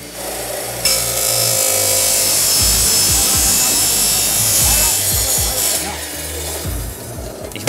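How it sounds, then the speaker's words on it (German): Sawing a part to size, a continuous loud, close rasping saw stroke running throughout with a rough, steady texture and brief pauses near the end. "Ich säge das Teil eben zu."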